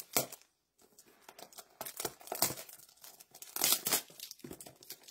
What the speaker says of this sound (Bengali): এটাকে আমি একটু আনপ্যাক করি